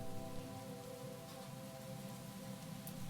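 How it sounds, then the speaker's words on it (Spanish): Steady rain patters on cobblestones outside a small pastry shop on an autumn evening, a continuous soft hiss of drops with a low rumble beneath and no voices. "mientras la lluvia seguía cayendo sobre los adoquines"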